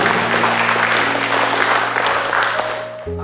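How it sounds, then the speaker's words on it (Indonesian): Audience clapping at an official handover ceremony for a regency head in Subang, loud continuous applause from a crowd, slightly tapering at the end. "Tepuk tangan dulu."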